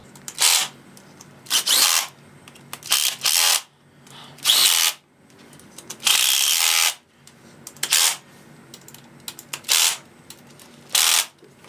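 Power tool gun driving bolts during a PC starter install, a series of short loud whirring bursts separated by brief pauses, close by with no talking.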